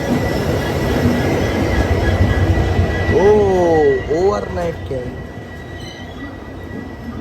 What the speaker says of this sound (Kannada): WDP-4D ಜೊತೆ ಯಾವುದೋ ಒಂದು ಟ್ರೈನ್ ಇರೋದ್ರಿ ಇಲ್ಲಿ 9ನೇ ಪ್ಲಾಟ್ಫಾರ್ಮ್ ಒಳಗೆ